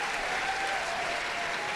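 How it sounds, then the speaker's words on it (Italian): Continuous applause from a church congregation in Italy welcoming an apostle, a dense steady patter of clapping hands filling the whole moment without pause. "Accogliamo con un caloroso applauso il nostro apostolo."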